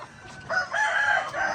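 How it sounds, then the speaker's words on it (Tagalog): A rooster crows loudly nearby on a poultry farm, a drawn-out cock-a-doodle-doo rising after a short cluck, with hens kept for battery cages around it. "yun yung mga inahin na ilalagay natin sa battery cage"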